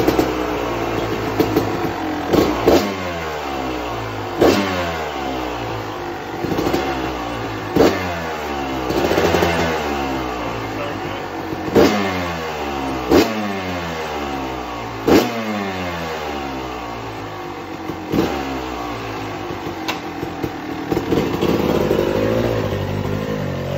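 An old barn-find dirt bike revved repeatedly, its engine rising and falling in sharp throttle blips between brief idle stretches, loud and close, with no talk.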